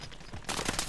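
Gunfire in Call of Duty: Modern Warfare, a dense burst of rapid shots that turns louder and harsher halfway through, sustained without pause and with no talking.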